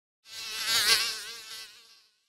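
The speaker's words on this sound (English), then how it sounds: "Mosquito." A mosquito's high, thin buzz swells in and fades away over about two seconds, close and alone in silence.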